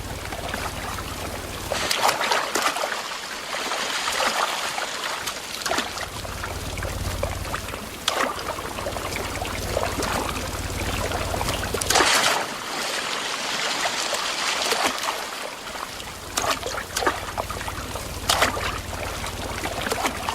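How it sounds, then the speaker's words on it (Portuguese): Steady, continuous rush of a stream flowing through Brazil's Atlantic Forest, a broad watery hiss that fills the scene at close range with small surges and no voices. "na Mata Atlântica, sempre tem um riacho por perto"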